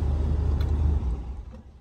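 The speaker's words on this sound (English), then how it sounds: "Truck starts up, go ahead and unlock it" A Ram 2500 pickup idles right after a remote start, a low, steady engine rumble close by that eases off slightly toward the end.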